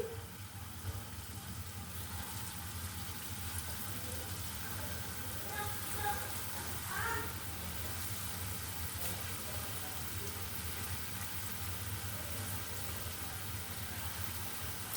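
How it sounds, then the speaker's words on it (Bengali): Palm-fruit pitha frying in well-heated oil, a steady dense sizzle and bubbling that holds at an even level throughout, close up with no talk. "এখন আমি পিঠাটা দিয়ে দিচ্ছি তেলটা বেশ ভালো গরম করে নিয়েছি"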